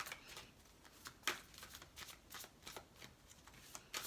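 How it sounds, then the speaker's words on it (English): Fairy Tarot cards being shuffled by hand, a dry papery riffle and slide with quick irregular bursts of card flicks, close and fairly quiet, with no talk. "I'm going to pull some cards from the Fairy Tarot deck for you"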